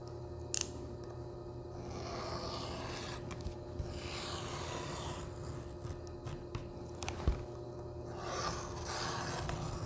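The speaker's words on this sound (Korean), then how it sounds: "종이를 두껍게 잘라서 한번 이렇게 칼질을 해주시면 됩니다" A knife slicing through thick paper for a contact print: soft, steady scraping and rasping strokes close up, with a few sharp ticks, running quietly throughout with no talk.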